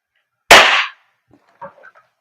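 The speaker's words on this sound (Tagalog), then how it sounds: "Yung unang putok talaga ng magazine, malakas eh." An airsoft Glock gas pistol fires one sharp, loud first shot of the magazine, followed by a brief quiet pause and a few faint clicks and rattles.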